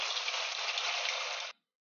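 Sabudana paneer vadas frying in hot oil over a low flame give a steady, close hiss of sizzling bubbles that runs evenly for a moment and then cuts off abruptly, with no talk.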